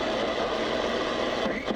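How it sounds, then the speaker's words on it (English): Single sideband voice transmission on a portable shortwave radio tuned in AM mode, heard as a continuous, garbled, muffled hiss of unintelligible speech-like sound over steady noise, fairly loud and unbroken. "when you're tuning through the bands you may hear conversations that sound like this"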